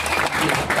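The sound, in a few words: applause for presenters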